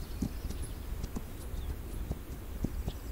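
Horse hooves clip-clop in a video game, a series of soft, irregular thuds spread across the few seconds over a steady low background hum.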